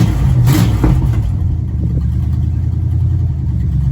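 A 1977 Dodge D100 pickup with a swapped-in small block V8 revs briefly near the start, then settles into a steady, rough low idle that carries on to the end.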